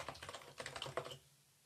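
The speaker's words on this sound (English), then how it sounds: "type in my username" Rapid typing on a computer keyboard while logging into an Azure SQL database, a close, busy run of clicking keystrokes that stops abruptly, leaving quiet room tone.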